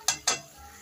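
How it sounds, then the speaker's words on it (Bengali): Spinach and mixed vegetables being sautéed with sugar in a pan: two quick, close spatula scrapes in rapid succession, then a faint low hum. "এবার আমি আবার কিছুক্ষণ কষাবো এই চিনিটা দিয়ে।"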